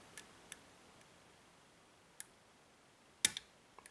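Faint, sparse clicks from the pins of a KeyMaster No. 9 challenge lock being picked, a few isolated ticks and one sharper double click, close up against near silence.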